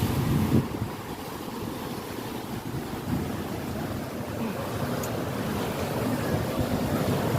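Big ocean waves roll onto a beach in Hong Kong, a broad steady surf roar mixed with heavy wind rumble on the microphone, loud and continuous, with no voices.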